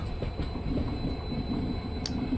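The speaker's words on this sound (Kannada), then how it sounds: "ನಮ್ಮ ಟ್ರೈನ್ ಬಂದುಬಿಟ್ಟು ಮೈಸೂರು ರೈಲ್ವೆ ಸ್ಟೇಷನ್ ಒಳಗೆ ಹೋಗ್ತಿದೆ" Train rolling slowly into Mysore Junction railway station with rhythmic clacks of wheels over rail joints and a faint metallic squeal, steady and close.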